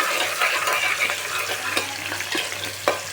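Onions with curry leaves fry in hot oil in a pan for a simple khichdi, a steady close sizzle with a spatula scraping and stirring through it at irregular intervals.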